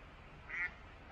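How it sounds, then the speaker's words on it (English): Ducks quack in a short burst midway through, faint against a steady outdoor background, with no talking. "Oh, frick. Ducks."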